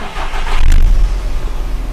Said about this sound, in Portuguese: Liga primeiro o carro que está bom e depois o carro que precisa da partida.